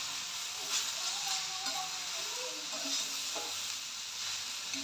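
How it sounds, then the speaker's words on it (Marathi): Fresh grated coconut and onion are roasted together in a small iron kadhai for a Kolhapuri tambda rassa masala, with a steady close sizzle and repeated scraping stirs throughout. "एक ओला नारळ घेतलाय बघा ह्याच्यात टाकून हा देखील व्यवस्थित आपल्याला ना कांद्यासोबत भाजून घ्यायचा आहे"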